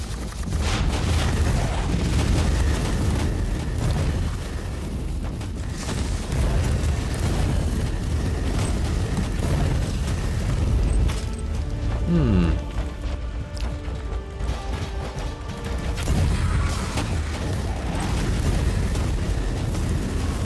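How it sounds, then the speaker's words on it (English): Dense rolling explosions and gunfire-like blasts from Warhammer 40K Inquisitor combat, loud and continuous with heavy low booms over about twenty seconds. "Oh man, this is an explosion."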